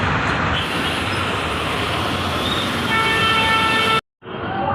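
A loud, steady rumble of a train rolling into a station in rain, with bright tonal squeals rising near the end before a sudden cut and brief return of noise.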